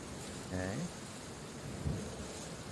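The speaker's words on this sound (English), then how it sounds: "Green fades to white with an especially loud clap of thunder." Thunder cracks through a scene in the video game Root Film over a steady wash of rain, with one louder burst early and a softer rumble near the end, no voices.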